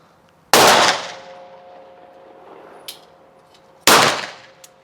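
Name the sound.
revolver shots fired double action on a range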